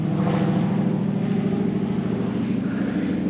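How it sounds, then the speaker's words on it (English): A steady, loud T-6 aircraft engine drone, deep and continuous, with no voices over it. "Oh boy, I hear a big engine."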